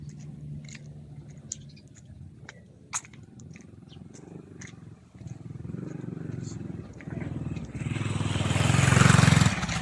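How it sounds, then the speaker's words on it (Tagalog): Motorcycles on a busy street rise to a loud roar near the end of the clip, with people chatting casually throughout. "Daming motor."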